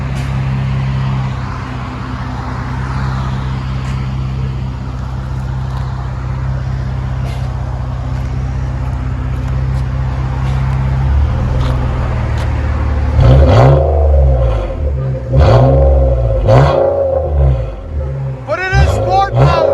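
A Nissan Maxima 3.5L V6 with a Motordyne cat-back exhaust and muffler delete idles with a deep steady rumble, then several sharp revs surge and fall back, loud and close, with voices speaking during the later part.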